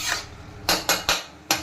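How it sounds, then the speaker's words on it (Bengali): A spoon clatters against a pan as meat for a chicken curry is stirred: four sharp scraping knocks in quick succession after a brief hiss, close and fairly loud, no talking. "মাংস ভাজা হচ্ছে"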